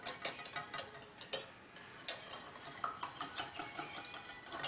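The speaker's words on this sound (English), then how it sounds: "whisk the 1 egg" A single egg is whisked in a bowl, with rapid, light clicking and tapping strokes at a brisk, uneven rhythm that briefly pauses once.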